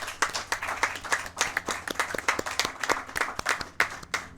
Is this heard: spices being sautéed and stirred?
no